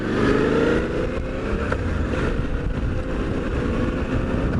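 A Suzuki V-Strom 800DE Dirt Edition motorcycle on a group ride, its engine a steady close drone under heavy wind rush throughout.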